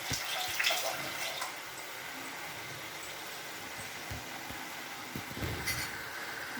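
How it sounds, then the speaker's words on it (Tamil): Cow's-milk butter simmers in a pan as it is cooked down into ghee, giving a faint, continuous bubbling fizz with occasional soft pops and no talking. "அந்த தண்ணீரெல்லாம் பிரிஞ்சு கொதித்து தண்ணி இப்போ ஆவியாக போயிடும்"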